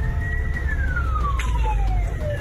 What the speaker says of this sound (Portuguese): Um policial da Rokan percebe de longe a movimentação da torcida e aciona a sirene.